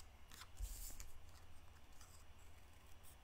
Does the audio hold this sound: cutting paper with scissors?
yes